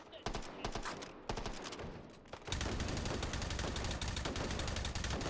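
Gunfire crackles in the VR shooter Hot Dogs, Horseshoes & Hand Grenades: scattered separate shots first, then a loud, sustained rapid burst of automatic fire.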